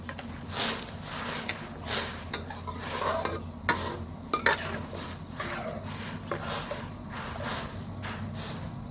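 Thai curry paste sizzles in a hot pan as it is stirred and toasted, with repeated scraping strokes in an uneven rhythm, close up.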